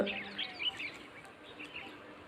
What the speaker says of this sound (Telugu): ఆ నేచరు ఆ బర్డ్స్ సౌండ్